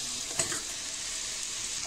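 Chana masala with ground coconut paste fries in a pan and is stirred, giving a soft continuous sizzle with one brief scrape of the spoon near the start. It sounds close and fairly quiet, with no voices.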